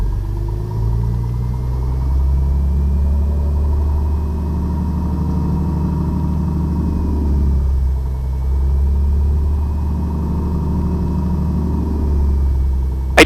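A Piper Comanche 250 aircraft engine runs steadily at 1500 RPM with its mixture left lean, a loud, continuous low rumble with a constant drone and no voices.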